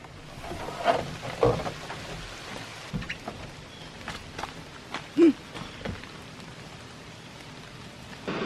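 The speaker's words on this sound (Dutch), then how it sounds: "En meteen regen." Steady soft morning rain at Willow Bay, near Niagara Falls, patters continuously in the background, with a few louder drops and knocks standing out over the constant hiss.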